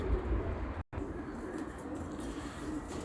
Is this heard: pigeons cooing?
yes